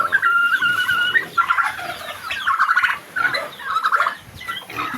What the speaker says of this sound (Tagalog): ito yung pabo na